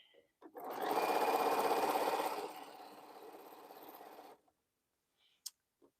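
A sewing machine runs fast stitching quilting fabric, a dense steady whir that slows partway and stops, followed by a couple of faint clicks.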